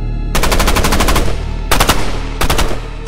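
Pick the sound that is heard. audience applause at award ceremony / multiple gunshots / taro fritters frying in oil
multiple gunshots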